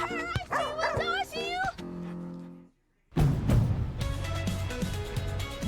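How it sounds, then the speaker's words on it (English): A dog, a male, gives a few short yips and whimpering barks up close, broken by a brief silence and followed by people talking over other sounds. "I see you barking, boy"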